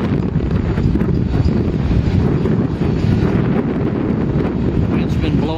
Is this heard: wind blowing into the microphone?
yes